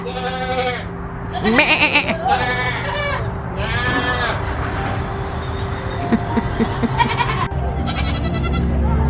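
Several goats bleat loudly in bursts during a goat yoga session, overlapping cries close by over a low steady hum, with a few short pauses between calls.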